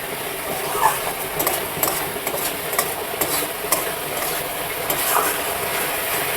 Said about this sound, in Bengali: ভালো করে মশলাটাকে আমি কষিয়ে নেব